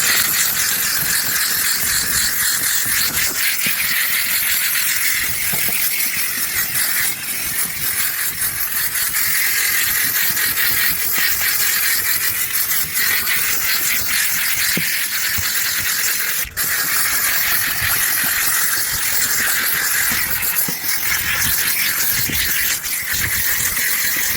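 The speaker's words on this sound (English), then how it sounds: "We're going to go ahead and steam it with our steamer" A steamer blasting the interior of a car during detailing gives a loud, continuous hiss with a faint rattling undertone, steady for the whole stretch, with no voices.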